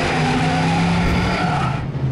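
A cartoon vehicle in an animated dinosaur adventure series drives hard and skids, giving a loud, steady engine roar with tire-skid noise that holds for about two seconds and eases slightly at the end, with no talk over it.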